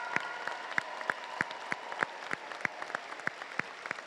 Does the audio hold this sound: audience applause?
yes